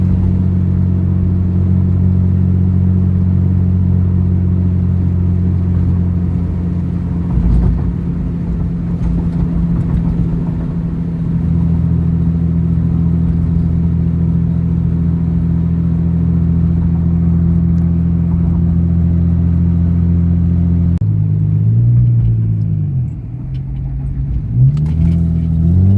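Nissan 350Z engine with a small exhaust leak droning steadily and loudly from inside the car during a drive, then changing pitch as it accelerates near the end.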